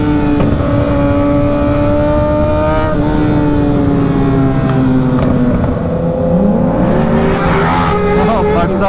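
A Kawasaki Ninja ZX6R 636 sport bike revs steadily with a rising, sustained engine whine while warming its tires on a morning ride, loud and close throughout, with a sharper climbing sweep near the end.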